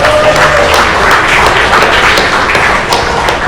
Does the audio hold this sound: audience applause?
yes